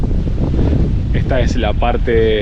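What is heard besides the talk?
wind blowing on the coast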